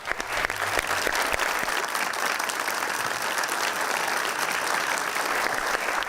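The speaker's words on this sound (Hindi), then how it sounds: "53 मिलियन तालियां भाई।" A live show audience breaks into loud, continuous applause, a dense wash of clapping that holds steady for several seconds with a faint crowd murmur beneath it.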